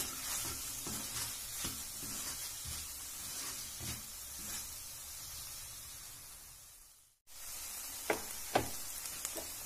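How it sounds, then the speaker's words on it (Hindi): Poha being stirred in a pan with sugar and salt, a soft continuous sizzle with steady scraping strokes of a spoon, faint and close, with a few sharper clinks near the end. "फिर एक मिनट इसको मिक्स करते हैं ताकि शक्कर मेल्ट हो जाए अच्छे से"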